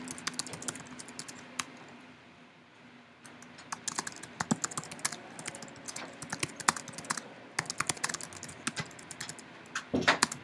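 Someone types a true-false quiz question into a box on a computer keyboard: a brief soft pause, then a fairly quick stream of light, close key clicks with a few louder strikes near the end.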